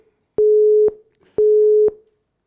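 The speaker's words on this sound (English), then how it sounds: "it took me an awful long time on Google to find a recording of the Dutch engaged tone" Dutch telephone engaged tone: two identical half-second beeps of a single steady pitch separated by short silences, clean and loud with nothing else heard.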